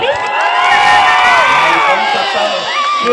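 A crowd at a village jatara fair cheers, whoops and shouts loudly, with children's voices prominent, a continuous lively roar lasting throughout.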